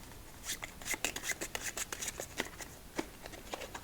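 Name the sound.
shuffling a deck of cards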